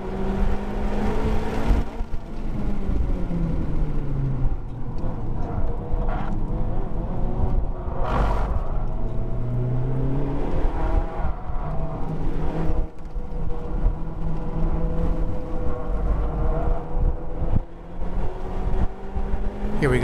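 A Honda Civic Type R FK8 driving on the Shenandoah race track, its engine droning and rising and falling through gear changes in steady cabin noise, without talk.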